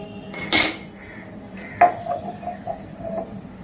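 Crushed garlic moved into a bowl: two clear clinks of a utensil against the dish, followed by a few faint scrapes and taps, close and quiet.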